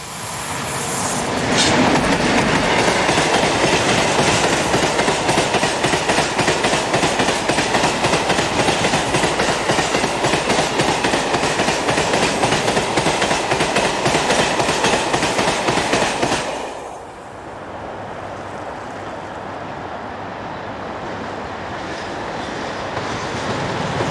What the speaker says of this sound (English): until funds are forthcoming the locos still find themselves at work even on freight services